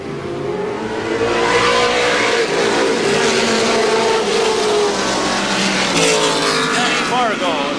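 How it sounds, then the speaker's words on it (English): Race cars roaring on the final lap of an end-of-season race at Lorain County Speedway in 1987, loud engines revving and passing continuously, with an announcer calling the race over the noise. "It will be 1 lap to go for John Vallow"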